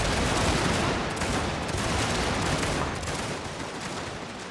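Massed troops firing volleys in a Total War style battle game, a dense continuous crackle of rolling musketry, loud and unbroken throughout.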